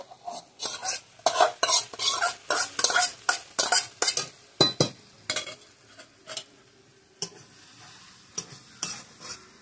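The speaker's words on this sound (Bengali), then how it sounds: "এবার নাড়াচাড়া করে নিয়ে ভেজে রাখা ডিম আর পেঁয়াজগুলো আমি দিয়ে দেবো" Spatula scraping and stirring in a pan of fried snake gourd with fried egg and onion, a rapid run of sharp clinks and scrapes over a soft sizzle, then slower, sparser strokes as the frying settles.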